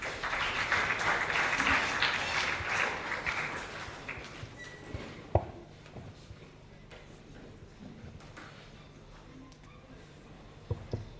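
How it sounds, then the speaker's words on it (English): Audience applause at a creative computing panel launch in Uganda as panelists take their seats, clapping strongest in the first few seconds then thinning to scattered claps, with footsteps and a sharp knock over a quiet room. "Let's give them a round of applause as they are coming."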